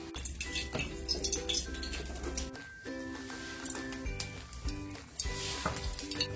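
Garlic and chillies crackle and sizzle in hot oil for a village-style fish curry with tamarind, a busy frying hiss heard under loud background music with occasional stirring clatter.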